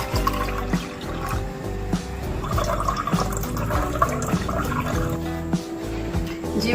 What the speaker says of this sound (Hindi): सबसे पहले हम पानी ऐड करेंगे